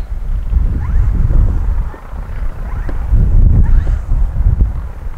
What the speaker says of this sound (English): Windy. Very windy.